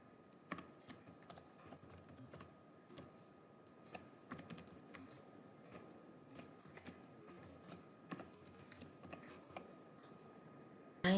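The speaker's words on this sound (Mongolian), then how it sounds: "өөрийнхөө email хаягаа энэ бичнэ." Someone types an email address on a computer keyboard, a steady run of light, close key clicks with irregular rhythm and small bursts, fairly quiet and heard alone.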